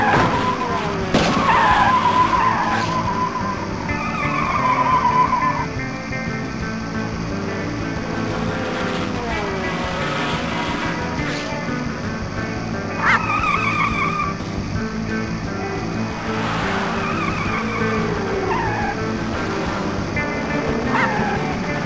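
Cartoon race cars in the 1998 PC game Putt-Putt Enters the Race start off, their engines revving and tires squealing in several loud skids, with music underneath and no talk.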